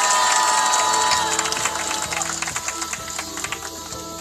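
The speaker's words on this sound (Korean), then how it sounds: "큰 박수로 맞으시기 바랍니다" A crowd at an outdoor anti-THAAD reunification rally in Soseong-ri claps and cheers loudly, with whoops and shouts over dense applause that eases slightly after the first second, music or tones faintly underneath.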